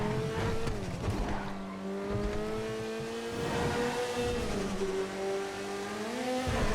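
Engines of several cars racing in GTA FiveM, a steady near engine note rising and falling as gears change, with brief tire squeals and revving throughout.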